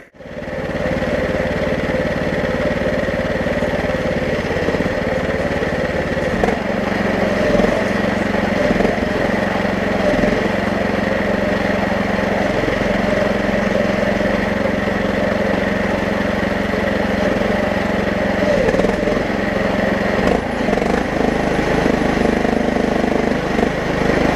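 A new 420cc engine fitted to a Case 700 series tractor runs steadily and loudly at a constant idle, a continuous close-up drone with no talk.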